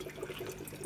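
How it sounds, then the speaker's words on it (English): Water trickling steadily as it is siphoned into a shrimp aquarium tank, a brief, continuous soft splashing and gurgling, close and quiet. "Still got a little bit more to siphon in to top it up."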